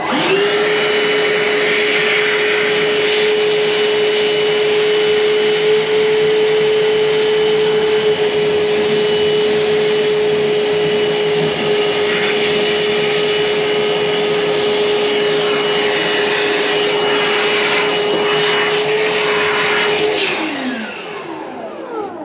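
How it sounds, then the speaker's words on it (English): A steady, loud wet-vac motor whine runs continuously for about twenty seconds while sucking water from a pipe, then winds down and cuts off near the end. "get the wet vac on it, and in theory it should suck out everything and cause a vacuum for us"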